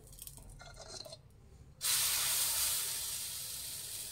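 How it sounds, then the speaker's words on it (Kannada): Dosa batter poured onto a hot tawa, a sudden loud hiss bursting in after quiet moments and then slowly fading as it sizzles on alone. "ಈ ತವಾ ಬಿಸಿ ಮಾಡೋದಕ್ಕೆ ಇಟ್ಟಿದೆ, ಬಿಸಿಯಾಗಿದೆ. ಈಗ ದೋಸೆ ಹಾಕ್ಕೊಳ್ಳೋಣ."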